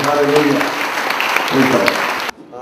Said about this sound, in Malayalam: കൈയടിച്ച നന്ദി പറയാൻ